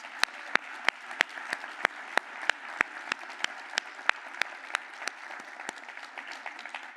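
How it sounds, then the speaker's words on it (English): A conference general-session crowd in a hotel ballroom applauds steadily for several seconds, with a dense wash of clapping and sharp, regular claps standing out nearby. "A big round of applause for our partners."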